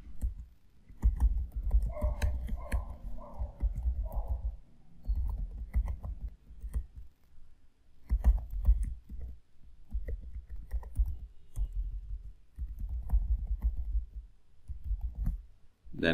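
Bursts of key clicks from a computer keyboard as a password is typed while setting up Jenkins on Windows 11, with soft irregular tapping in short runs and pauses over about sixteen seconds, fairly close, with no talk.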